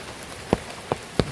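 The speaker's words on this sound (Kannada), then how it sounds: "ಮಳೆ ಬರ್ತಾ ಉಂಟು ಸ್ವಲ್ಪ ನಾವು ನಿಲ್ಲಿಸ್ಬೇಕು" Rain falling on an areca plantation, heard as a few distinct heavy drops striking nearby surfaces at irregular intervals over a quiet background, with no voices.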